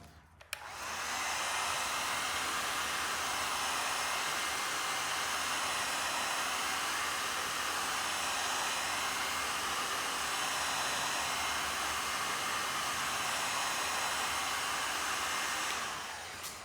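Heat gun blowing hot air on a decal on a Cub Cadet 882 garden tractor, a continuous loud even roar of airflow lasting about fifteen seconds, close up and without speech.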